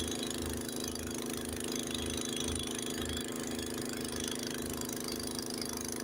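A Honda snowblower runs steadily through a blowing snowstorm, its engine a continuous close drone with wind noise, no talking.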